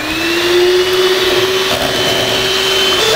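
An electric mixer beating French toast batter gives off a loud, steady, whining motor drone, held continuously at close range with no speech.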